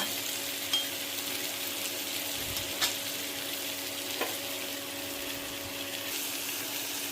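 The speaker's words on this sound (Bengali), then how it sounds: "এই যে একবার করে একটু ঢাকবো, আবার একটু নাড়া দিব।" Vegetables fry quietly in a pan, a soft steady sizzle broken by a few sharp clinks and scrapes of stirring, close but low in level, with no talking.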